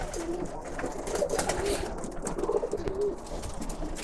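Birmingham Roller pigeons coo in a loft on a snowy day, with soft, low, repeated coos rising and falling over a faint background hum and no talking.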